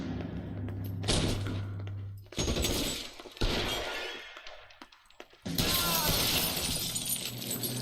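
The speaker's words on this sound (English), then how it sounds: "Жесть, вот это выстрел" A gunshot in the crime game L.A. Noire, a loud sharp crack with breaking debris after it, followed by more sustained bursts of crashing, fire-like noise.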